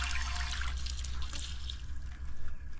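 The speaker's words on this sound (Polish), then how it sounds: "Kolejny kran, również z wodą pitną." An outdoor drinking-water tap runs in a steady, soft trickle and rush, close by and continuous, with no voices.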